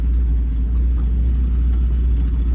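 A 1959 Buick's engine runs while the car is driving, giving a continuous low rumble with steady road noise and no talking.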